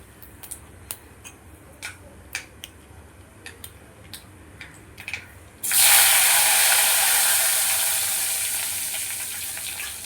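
Mustard seeds and two dried red chillies crackle and spit in hot oil already used for frying ginger, a loud sustained sizzle starting abruptly after a few light ticks and slowly easing.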